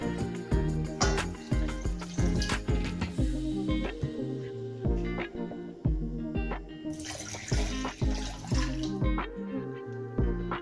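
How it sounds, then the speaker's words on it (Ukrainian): Water pours into egg yolks and sugar for pancake batter, 250 ml in all, a splashing, trickling liquid sound with clinking and dripping that runs through the whole clip at close range, with no talk. "Е, тепер 250 мл води сюди."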